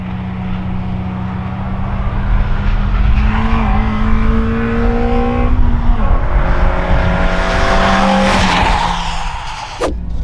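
A Honda Fit engine pulls at wide-open throttle, droning loud and close as its pitch climbs steadily through the gears, with distinct drops at each upshift and a sharp click near the end.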